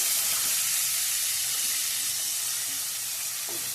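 Spices roasting in hot oil give off a steady, loud sizzling hiss that stays even from start to finish, with no voices.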